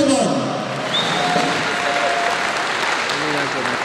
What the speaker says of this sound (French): Applaudissons tout le monde.